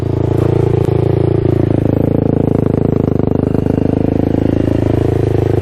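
A Yamaha YFZ 450 race quad, recently bought used, idles steadily right beside the listener, its engine beating in a loud, rapid, even rhythm with some mechanical clatter and no talking.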